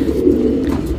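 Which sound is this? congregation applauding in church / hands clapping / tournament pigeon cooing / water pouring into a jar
tournament pigeon cooing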